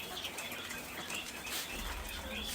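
Quail fluttering and flapping their wings as they are loaded into a container, a faint, busy patter of wingbeats with occasional soft chirps.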